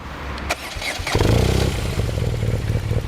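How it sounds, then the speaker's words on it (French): A BMW R nineT flat-twin motorcycle engine cranks over and catches, then settles into a steady, loud, throbbing idle with a low, lumpy pulse. "On va la démarrer un petit peu pour entendre le bicylindre à plat."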